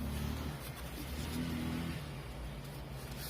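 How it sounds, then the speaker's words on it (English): A motorcycle engine drones and revs outside, a low rumbling pitch rising and shifting as it passes, fairly distant and steady. "Maybe we have a motorcycle now."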